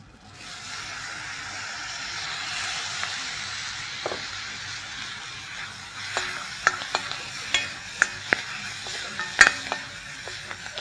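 Fenugreek leaves fry in hot oil in a pan, a loud, steady hissing sizzle that builds early on, then close, irregular taps and scrapes of a stirring spoon join in, no speech.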